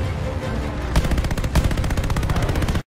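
A rear gunner's machine gun in the Call of Duty Vanguard Midway mission fires loud, rapid, continuous bursts of close gunfire with a sharp rattling rhythm, then cuts off abruptly.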